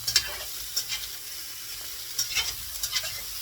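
Onions frying in a pan beside a separate pan of cooking potatoes, a steady hiss with a few scraping stirs near at hand, no voices.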